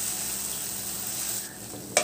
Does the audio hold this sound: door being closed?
no